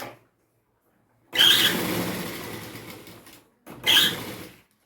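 A sewing machine stitching a cloth bag runs in two bursts, a longer whirring run of about two seconds and a shorter one about a second later, with silence between them.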